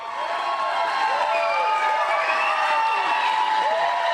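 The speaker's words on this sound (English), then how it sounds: "I don't think he can hear us because the crowd's so loud" A large, loud crowd at an outdoor morning broadcast with Kid Rock, cheering and shouting in a dense continuous roar with scattered high yells riding on top.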